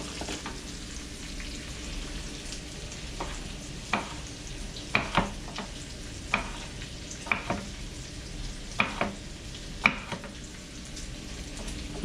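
Bacon and sliced potato pennies frying in oil in a cast iron skillet, a steady close sizzle with scattered sharp clicks and scrapes of stirring throughout.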